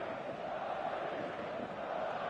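Stadium crowd in the eFootball 2026 video game, a steady, dense roar of massed fans building before kickoff, continuous and fairly loud with no individual voices standing out.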